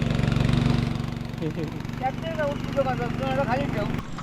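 A tractor engine runs in a Konkan paddy field during rice farming, a steady close idling drone with a low, even throb throughout while people talk over it.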